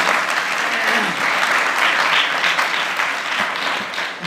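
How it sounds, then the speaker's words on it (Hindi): An audience at a religious discourse claps for the children, a full, steady round of applause from a crowd that holds throughout and eases slightly near the end. "बच्चों के लिए ताली तो बजाओ आप"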